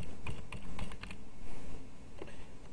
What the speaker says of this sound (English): So type in a new password